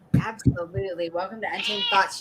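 A cat meows repeatedly in a drawn-out, wavering way close to the microphone while two people talk over it at the start of a podcast show.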